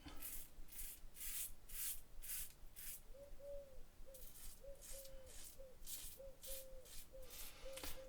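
Razor with a carbon-steel blade shaving a beard on a first pass with the grain: close, soft, rhythmic scraping strokes in short bursts, faint and alone, with a few high chirping tones in the background.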